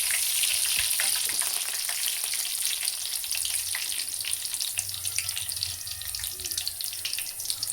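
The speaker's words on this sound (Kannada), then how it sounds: "ಇವಾಗ ನಾನಿಲ್ಲಿ ಕರ್ಬೇವನ್ನ ಡೀಪ್ ಫ್ರೈ ಮಾಡ್ಕೊಳ್ತಾ ಇದ್ದೀನಿ" Curry leaves deep frying in hot oil, a steady, loud crackling sizzle full of rapid spitting pops that continues without a break, with no voices.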